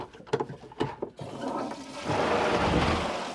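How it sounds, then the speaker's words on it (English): A toilet in a converted cargo camper trailer is flushed: a few clunks and clicks of the mechanism, then a steady rushing of water that swells and lingers, close by. "I think I just flushed it."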